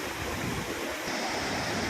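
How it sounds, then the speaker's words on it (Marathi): Floodwater pours from the overflowing Terna dam after heavy rain, a steady, dense roar of rushing water close by with no talk. "तर अशा प्रकारे आपण पाहतात पाणी या ठिकाणी मुबलक वाहत आहे"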